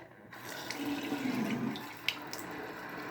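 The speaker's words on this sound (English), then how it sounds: "I'm only going to turn it a little bit to the hot water" Water runs steadily from a household bathroom tap turned slightly toward hot, a soft continuous hiss with a brief louder splash near the end.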